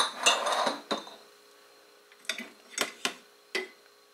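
Ceramic dishes clink and clatter in a few separate knocks and scrapes against a Midea mini dishwasher, close by, with quiet pauses between.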